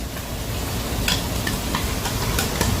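Chopped scallions fry in oil in a pan, giving a steady close sizzle with a few soft stirring scrapes and clicks, and no talking.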